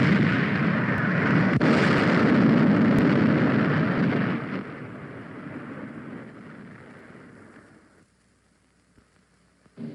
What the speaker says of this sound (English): pool their specialized training for pinpoint bombing of hidden enemy targets